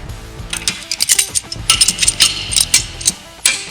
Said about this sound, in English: you can hear the snap when we get a little bit more tension on it